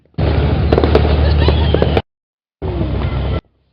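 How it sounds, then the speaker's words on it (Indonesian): Loud crackling bursts of fireworks and firecrackers at a Christmas celebration in Ambon, Indonesia, a dense barrage of pops and booms, a brief gap, then another burst. "Pesta kembang api dan petasan yang berlangsung lebih 1 jam ini"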